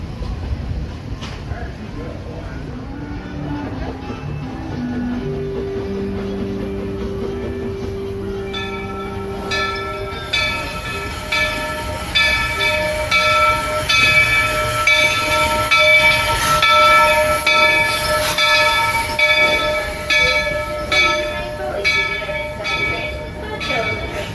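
The Walt Disney World Railroad steam train at the Magic Kingdom rumbles along steadily, with sustained whistle-like tones and bell-like ringing building in the second half, under intermittent talk.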